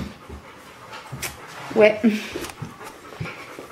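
Dogs that were just brushed pant softly and quickly at close range, with a brief whimper, while a person says a single word.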